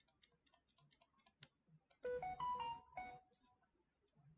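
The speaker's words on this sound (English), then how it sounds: "Sorry, guys, I'm going to mute my phone." A phone gives a short melodic ringtone or alert of a few rising and falling tones, after a few faint ticks and clicks during a quiet board game.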